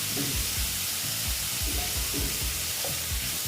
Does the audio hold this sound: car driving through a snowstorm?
no